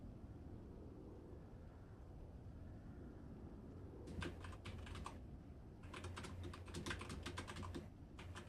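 Quiet room hum gives way to bursts of rapid computer keyboard typing, close-up clicking runs separated by short gaps, no voices.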